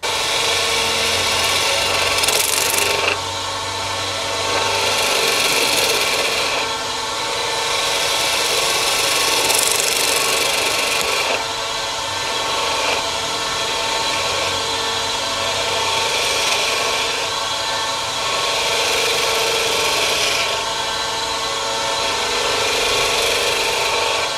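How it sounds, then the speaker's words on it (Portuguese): A freshly sharpened wood-turning chisel cuts into wood spinning on a lathe, giving a loud, steady rasping scrape that swells and eases in long passes with no talk. "Vamos fazer os testes agora na madeira para ver se está cortando bem"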